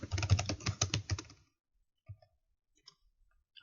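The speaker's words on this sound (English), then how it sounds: "you just start typing." Quick, close typing on a computer keyboard, a dense burst of key clicks that stops, followed by a few isolated taps in near silence.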